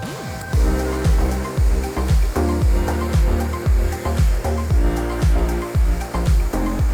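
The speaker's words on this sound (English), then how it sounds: "we're going to rinse away all the cleaner debris and reveal the nice clean rim" A pressure washer rinses foam wheel cleaner off a car wheel rim, its spray pulsing in a steady rhythm about twice a second, with a droning motor underneath, close and loud.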